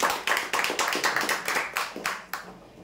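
Rhythmic group clapping for prize draw winners, roughly a dozen sharp, evenly spaced claps in unison that fade out at the end, fairly close.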